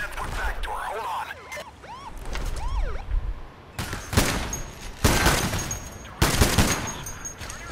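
Wailing police sirens sweep up and down early on in a heist video game, followed by heavy bursts of gunfire and loud impacts, with a few thumps in between.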